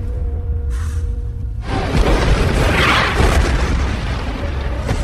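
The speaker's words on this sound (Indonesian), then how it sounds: "ia menyalakan bom dan meledakkan sebagian zombie" Bomb explosion in the Resident Evil: Extinction film, a sudden deep roaring boom after a brief quieter lead-in, followed by a sustained rumbling, crackling blast that stays loud to the end.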